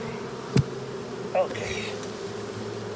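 Bees buzz softly around a swarm box on a porch, a faint steady hum with a couple of brief louder passes close by, and a voice speaks briefly.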